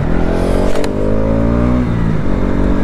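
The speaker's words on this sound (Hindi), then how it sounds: "तो गाइज ये होता है रेव मैच" A motorcycle engine revs loudly and close during a clutchless rev-match downshift, its pitch climbing, then dropping sharply near the two-second mark before settling into a steady drone.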